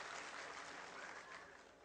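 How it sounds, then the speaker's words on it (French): A church congregation claps during a sermon, a dense, even wash of many hands applauding together, steady and moderately distant before easing slightly. "Ils applaudissent."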